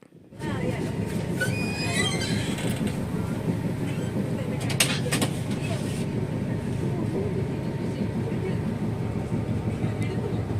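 Constant low rumble and rattle of a moving train heard from inside a carriage, with a few metallic squeals and faint voices in the background.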